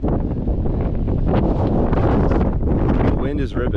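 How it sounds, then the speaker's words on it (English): Strong wind roars and buffets the microphone on an exposed mountain ridge in the White Mountains, New Hampshire, loud and continuous with gusty surges throughout. "The wind is ripping, so we're gonna keep moving."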